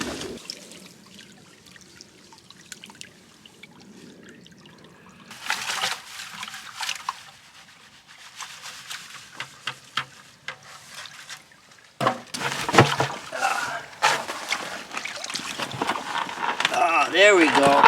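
Gold-bearing material from two buckets washes down a sluice: steady trickling and pouring water, quiet at first, then louder, busier splashing and rattling toward the end, with faint voices in the background.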